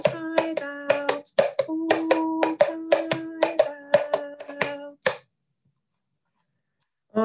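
A series of sharp hand claps in a rhythmic pattern alongside sung or chanted voice in a children's music class, close by, then a pause and one more clap.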